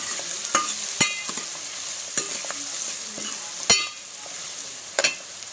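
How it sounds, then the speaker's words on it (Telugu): Spices frying for a mutton curry with bottle gourd sizzle steadily up close, while a spoon scrapes and knocks against the pan in scattered strokes, with no talking. "మంచిగా ఇది వేగనివ్వండి."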